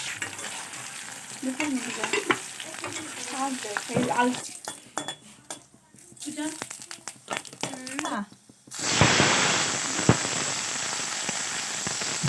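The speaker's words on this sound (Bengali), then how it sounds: "এটা হলো ডিবির পনির, ফ্রাই করা হচ্ছে" Paneer frying in a pan under a voice, with crackles and spoon clatter. Near the end the talk stops and a loud, dense sizzle takes over.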